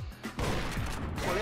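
In the video game Dead to Rights, played on the PPSSPP emulator, 12-gauge shotgun fire erupts after a brief lull as a dense burst of loud, overlapping blasts that continues to the end.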